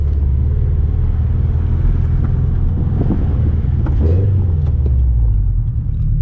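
A $200 eBay aftermarket exhaust on a Toyota 86 (FRS/BRZ) with an unequal-length header and deleted resonators holds a steady, loud, deep rumble close by, with no talking over it.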